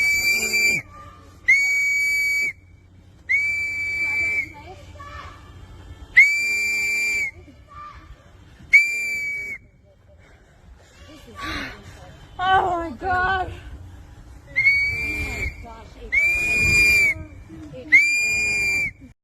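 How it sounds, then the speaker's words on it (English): Shrill whistle blasts repeat in short bursts, sometimes several at once, amid agitated shouting and talking voices outdoors at a street protest against ICE agents in Minnesota. "there's someone blowing whistles"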